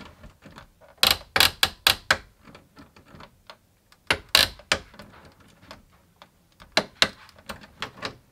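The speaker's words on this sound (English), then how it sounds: "we're just waiting to hear that click." A torque wrench tightens the main lugs, neutral and ground bar of a 200 amp electrical subpanel, giving a series of crisp, close clicks in uneven bursts with short pauses between.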